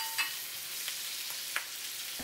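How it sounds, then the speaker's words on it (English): Green pepper and wood ear mushrooms stir-fried in a wok for twice-cooked pork make a steady frying hiss, broken by a few soft scrapes and taps of the spatula, no voices. "add in the wood ears to stir for about 20 seconds before adding in salt and sugar"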